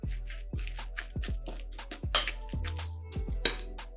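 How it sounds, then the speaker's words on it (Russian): Spoon stirring grated pumpkin, eggs, orange zest and sugar in a bowl, knocking the sides with repeated close, sharp clinks and scrapes in an irregular rhythm. "Перемешиваем."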